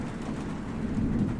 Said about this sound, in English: There was a terrible thunderstorm, and rain was pelting the car.